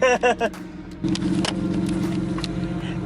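A GMC truck's 6.5-liter Detroit diesel engine hums steadily as the vehicle drives along, following a few brief bursts of a voice at the start.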